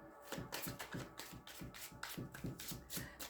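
Tarot cards are shuffled by hand close up, a quiet series of crisp papery slaps repeating in an even rhythm about three times a second, with no talking.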